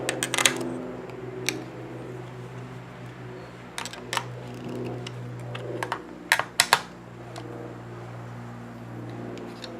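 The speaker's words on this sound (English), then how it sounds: "Now we're going to tighten all 4 screw locations using a nut driver" A hand nut driver snugs down four screws on a Logo Lites brake and run light fitted to a Model A Ford, giving sparse clicks and small metallic taps over a steady low hum, with a cluster of sharper knocks toward the end.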